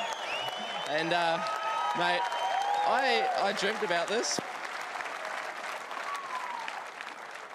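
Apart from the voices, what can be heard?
crowd clapping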